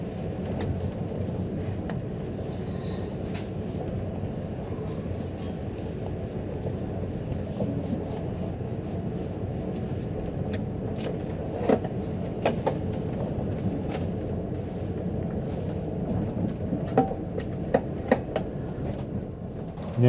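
Passenger train between Kaunas and Šiauliai in Lithuania, heard from inside a carriage as a steady low rumble of wheels and motion with scattered clicks and rattles, growing a little busier toward the end.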